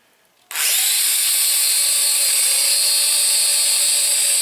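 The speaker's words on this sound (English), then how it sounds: "drill holes through the tabletop to the actual LED that's in the building" A power drill starts abruptly after a brief quiet moment and bores into a wooden tabletop, its loud, steady high whine continuing close up until the end with no talking.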